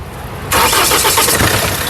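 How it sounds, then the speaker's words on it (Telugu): A 2017 Mahindra XUV500 W9 SUV starts on a single crank: a quiet lull, then the engine catches abruptly and settles into a loud, steady idle close by. "సింగిల్ సెల్ఫ్లో కార్ స్టార్ట్ అవుతుంది ఎటువంటి స్టార్టింగ్ ట్రబుల్ అయితే లేదు"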